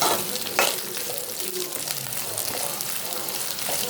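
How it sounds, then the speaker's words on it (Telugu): Sweet corn and softened onions sizzling in a pan for a sweet corn capsicum curry, a steady close crackle with occasional stirring scrapes and a faint voice in the background. "ఆనియన్స్ బాగా వేగాక అరకప్పు స్వీట్ కార్న్ వేసి బాగా వేగనివ్వాలి"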